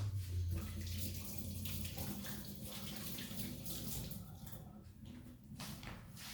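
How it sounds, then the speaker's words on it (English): Running tap water pours steadily while hands are washed under it at a kitchen sink during rye and whole wheat bread making, a close, continuous splashing rush without talk. "To wash my hands."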